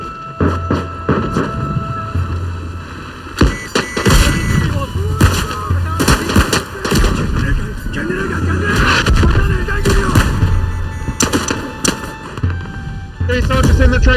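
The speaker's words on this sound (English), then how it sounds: "Suppressing fire." Heavy suppressing gunfire in a WW1 Gallipoli shooter game, with rapid rifle cracks and booming blasts overlapping in dense, loud volleys amid constant battlefield rumble, with voices shouting beneath the shots.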